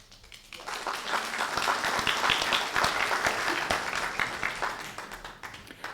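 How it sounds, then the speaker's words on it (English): An audience at a public meeting in Joplin breaks into applause after a testimony, the clapping swelling quickly from a few hands into dense sustained applause, then thinning toward the end. "I sincerely appreciate the applause."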